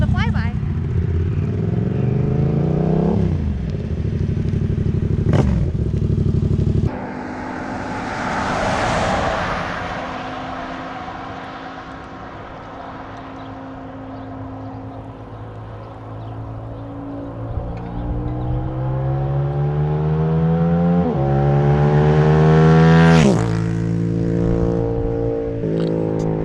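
A motorcycle with its exhaust baffle fitted passes by, its engine note climbing through the gears in a loud, rising drone that swells near and then fades, with a voice talking at the start.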